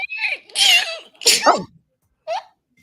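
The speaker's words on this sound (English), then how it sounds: "that was like a chihuahua sneeze." A person gives a small, high, squeaky sneeze in two quick bursts, close and loud, followed by a short breathy sound, with a brief vocal noise after a pause.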